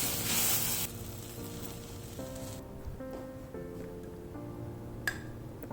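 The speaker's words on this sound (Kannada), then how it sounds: "ಈ ರೀತಿ ಬ್ರೌನ್ ಆಗೋ ತನಕ ಈರುಳ್ಳಿನ ಫ್ರೈ ಮಾಡ್ಕೋಬೇಕು" Onions fry in a pan until brown for a creamy chicken gravy, giving a steady sizzle that is loudest at the start and then settles, with faint tonal sounds running underneath.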